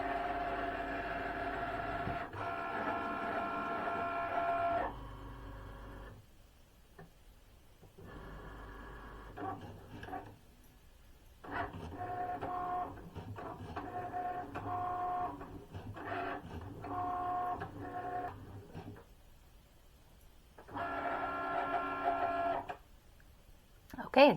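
A Cricut cutting machine slices heat transfer vinyl, giving a loud mechanical whirring and buzzing that starts and stops in repeated bursts with short pauses between passes, ending in a brief sharp clack.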